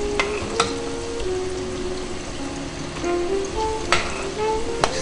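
Hot red chile sauce bubbles and sizzles in a pan over low heat while making chilaquiles: a steady, loud frying crackle with a few sharper pops and clinks throughout.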